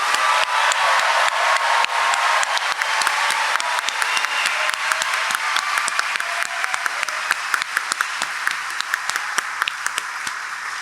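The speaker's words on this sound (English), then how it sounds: "we got to get another big round of applause for our 113 graduates" Sustained applause from a graduation ceremony audience celebrating 113 graduates, steady dense clapping filling the room at even loudness from start to finish with no talk over it.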